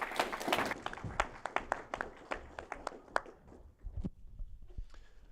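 Audience applause after a talk at the PLDI 2024 programming-languages conference, a room of people clapping with distinct sharp claps that thin out and fade over several seconds, fairly soft and distant.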